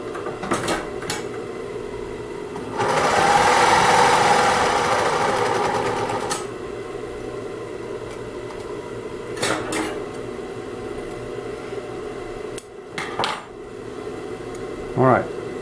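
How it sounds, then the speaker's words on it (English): A Singer 20U33 industrial sewing machine runs in a steady, rapid stitching burst for a few seconds, close and loud, followed by occasional clicks and handling knocks. "The Singer 20U33,"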